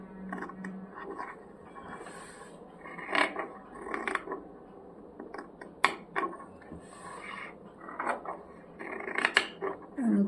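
Scissors snipping through chudidar lining fabric, a series of short crisp cuts and clicks at close range, with quiet handling sounds between them and no talking.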